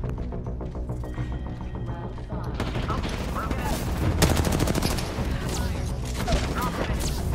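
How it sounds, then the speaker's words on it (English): Gunfire in a video game shootout, bursts of rapid automatic shots rattling at moderate distance, growing denser and louder after a quieter opening, with no talk over it. "A lot of them shooting at each other."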